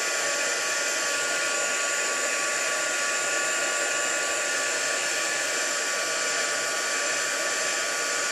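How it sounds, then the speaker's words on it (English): A heat embossing tool blows hot air over a stamped card, a constant loud hairdryer-like whoosh with a high whine, held steadily for over eight seconds at close range. "I'm going to fetch the heat tool in."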